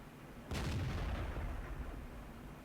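A tank gun fires once in World of Tanks, a sharp, loud blast followed by a long rumbling decay, aimed from long range at a TOG heavy tank.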